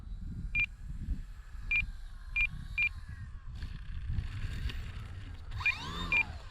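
RC transmitter timer alarm for an FMS PA-18 Super Cub model plane, several short sharp beeps spaced irregularly over a low windy rumble, with a final pair of beeps near the end.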